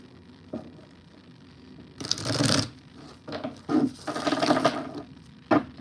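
Quiet room, then two bursts of riffling, flapping tarot cards being shuffled close by, with a soft tap near the end.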